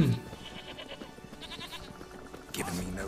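Goat bleating in The Witcher 3, a short cry at the start and another near the end, heard over steady game music and ambience.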